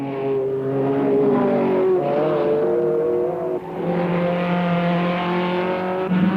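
A 3-litre Porsche 908 race car engine, the kind run at the Targa Florio, drones loud and steady with sustained harmonic tones, its pitch shifting through gear changes and rising again.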